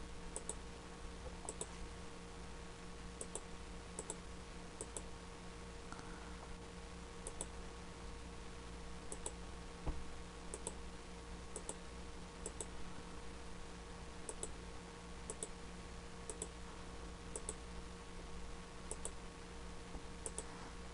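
Quiet computer mouse clicks while working in an illustration program come as sparse, light single and double taps spaced irregularly over a faint steady hum.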